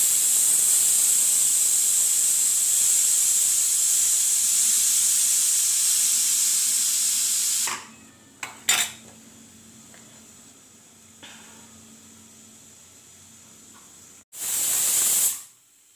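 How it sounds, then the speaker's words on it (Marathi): A pressure cooker cooking chicken blows its whistle: a loud, sustained steam hiss lasts several seconds and then stops abruptly, followed by quiet and a second short hissing burst near the end. "कुकरचे 2 शिट्ट्या द्यायच्या"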